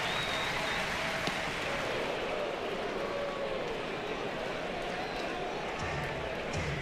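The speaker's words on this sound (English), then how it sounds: "Let's let the crowd tell the story." Stadium crowd at a college baseball game between Oklahoma and LSU, a broad steady roar of cheering voices filling the whole stretch, with no single voice standing out.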